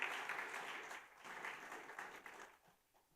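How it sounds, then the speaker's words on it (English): Applause from a club audience at a Rotary gathering, a dense wash of clapping that starts strong, dips near the middle, then fades out toward the end. "Friends, you all deserve a big round of applause for the work that you have done in so many years."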